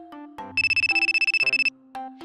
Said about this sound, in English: Hey, is that your phone ringing?